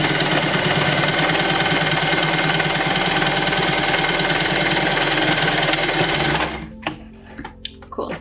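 A sewing machine runs steadily, stitching straight lines, its fast rhythmic needle clatter loud and close for about six seconds before stopping, followed by a few faint clicks and handling sounds.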